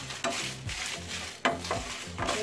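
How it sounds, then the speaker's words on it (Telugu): Coriander and fenugreek seeds frying in a pan while making peanut powder, a soft sizzle broken by a few scraping stirs, close and quiet. "దీంట్లోనే కొంచెం ధనియాలు, అలానే కొంచెం మెంతులు"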